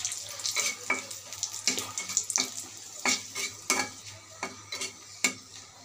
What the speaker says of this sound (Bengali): এখন আমি শুকনো মরিচটা ভেজে নেব আগে।